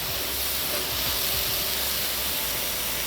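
Garlic and chili sizzle steadily in a pan while cooking a mushroom risotto, a continuous hissing spit that stays even and unbroken throughout, with no talking.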